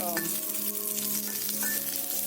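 Curd is stirred into vegetables already cooking with ground green chili and coconut in a pan for a curd curry, over a steady close sizzle with light stirring scrapes.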